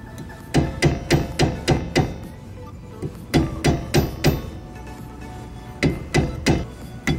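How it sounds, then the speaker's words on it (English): Sharp metallic hammer taps on a camper trailer's wheel bearings in three quick bursts of about five or six strikes each, close and loud, with short pauses between the bursts. "tap around the outside with a hammer and just work them out"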